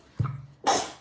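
A single sneeze from a person, sharp and close, with a short breathy onset followed by a louder burst.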